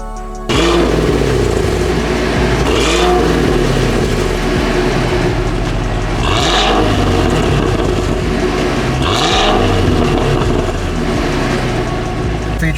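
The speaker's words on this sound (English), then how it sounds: "The engine sound, it has electronically adjustable exhaust" A Cadillac CT5-V Blackwing with electronically adjustable exhaust revs loudly up close, its engine note rising and falling in three distinct throttle blips over a continuous deep rumble.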